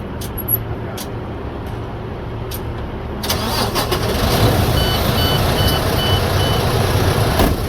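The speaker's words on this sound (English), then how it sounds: "I'm going to safe start the vehicle." A tractor truck's diesel engine is started up, cranking and catching partway through. A steady, loud medium engine rumble then settles in, with faint repeated beeps over it.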